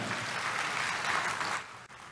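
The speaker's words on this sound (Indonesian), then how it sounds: "Tepuk tangan dulu yang meriah buat Tuhan kita" A church congregation applauds during a sermon, a dense wash of clapping that holds steady for about two seconds before fading, with no voices over it.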